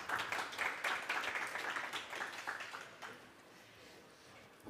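Audience applause at a health and wellbeing startup conference on an arena stage, a dense patter of clapping that is moderately loud at first, then thins and fades to a quiet tail over about five seconds.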